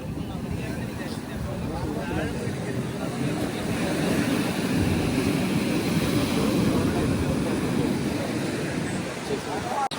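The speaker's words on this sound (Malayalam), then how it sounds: "ഇപ്പോൾ നമ്മൾ എത്തി നിൽക്കുന്നത് പോർബന്ദർ ബീച്ചിലാണ്" Waves on Porbandar beach at India's western edge: a steady, loud wash of surf mixed with heavy wind buffeting, continuous and close.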